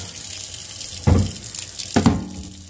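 Cold water runs from a kitchen sink tap in a steady splashing stream, with two sharper surges where the flow hits something and spatters, close by and with no talking.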